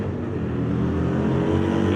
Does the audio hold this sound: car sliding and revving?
yes